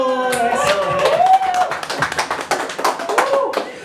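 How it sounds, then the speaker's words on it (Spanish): Guests clap by hand at a Colombian-style birthday celebration with a juvenile mariachi band, a steady patter of applause mixed with voices and lingering musical tones throughout. "¡Y ese aplauso!"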